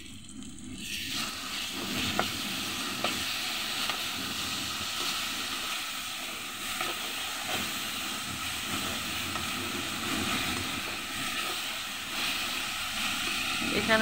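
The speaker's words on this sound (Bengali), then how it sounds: "আমি এখন এখানে টমেটো চপ করে রেখেছিলাম সেটা দিয়ে দিলাম" Chopped tomatoes hit a pan of browned onions while cooking a fish bhuna, giving a steady, even frying hiss that holds for the whole stretch with faint kitchen clinks.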